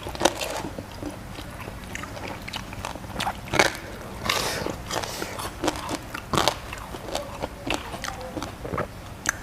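Crispy roast pork being bitten and chewed close up, with loud repeated crunches and crackles in an irregular rhythm and no talk over them.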